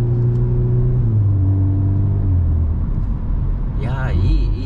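A Volkswagen Golf R engine and exhaust hum at low, steady pitch, then ease off, with a brief higher whir near the end, as people talk over it inside the car.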